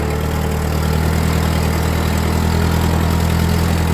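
An old Ford tractor engine runs steadily while rolling in second gear, a loud, constant mechanical drone with a whining transmission tone layered on top and no pauses.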